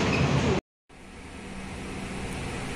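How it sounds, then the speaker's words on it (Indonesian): Inside the Shuttle Tebrau train running from Woodlands to JB Central, a steady close rumble and hiss of the moving carriage fills the space, broken by one brief dropout before the drone resumes. "sekarang saya sudah berada di dalam kereta api Shuttle Tebrau"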